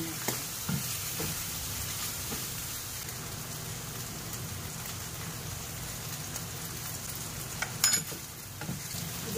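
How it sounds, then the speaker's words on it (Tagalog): Octopus sizzles and crackles in a hot pan as it is stirred, a steady, quiet hiss with occasional scraping clinks near the end. "Ito yung ating nilulutong octopus"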